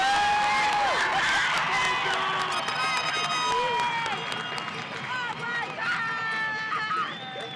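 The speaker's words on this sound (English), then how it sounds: "class of 2025, give yourselves another round of applause" Graduating high school class of 2025 applauding and cheering at their commencement ceremony, a big crowd roaring with whistles and sustained clapping that holds loud for several seconds and then slowly eases.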